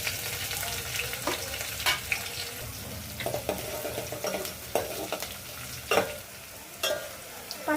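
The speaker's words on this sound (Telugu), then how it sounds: "పచ్చిమిర్చి నూనెలో ఫ్రై చేసినాక" Green chilies fry in hot oil with cumin and mustard seeds, giving a steady sizzle broken by sharp crackles and pops as they are stirred, with no voices.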